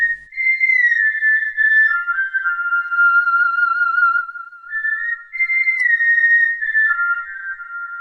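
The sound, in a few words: someone whistling a tune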